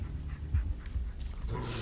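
A dog in the horror video game Blair Witch pants close by, with quick, rhythmic breaths and a faint whimper against a low ambient rumble.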